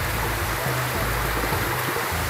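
Water rushing down a waterfall and an underground stream in a cave, a loud, steady roar of flowing water filling the space with a low churning underneath, close by and unbroken.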